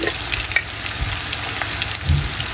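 Cumin seeds sizzle and crackle in hot oil with onions in a pan, a steady frying hiss with soft stirring scrapes and a brief louder burst near the end.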